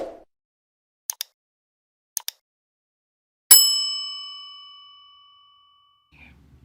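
A bright notification bell sound effect: two pairs of quick soft clicks, then a single loud ding that rings out and slowly fades over a few seconds, alone in near silence.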